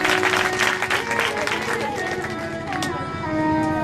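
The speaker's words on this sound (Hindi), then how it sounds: "तो इनके लिए भी ताली बजाई जाए" Audience applause at the closing-day session of a Shiv Mahapuran religious discourse, a dense, loud wash of clapping held for about four seconds, with steady tonal sounds running beneath it.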